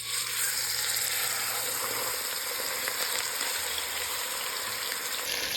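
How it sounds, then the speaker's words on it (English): Meat sears in hot oil inside a Dutch oven for a pot roast, giving a steady, close, crackling sizzle that hisses evenly from start to finish with no talking. "We're gonna add this to a Dutch oven that has some hot oil in it already."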